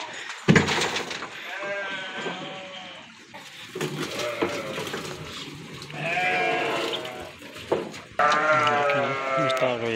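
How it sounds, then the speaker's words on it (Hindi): Several sheep bleat loudly and repeatedly, close by, with overlapping calls and some farmyard clatter in the background. "ये बहुत ही शरीफ भेड़ा है।"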